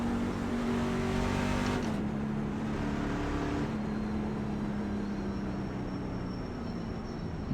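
A race car engine in the iRacing simulator drones steadily with loud, continuous tone, shifting pitch a couple of times as it changes gear, with no talk over it.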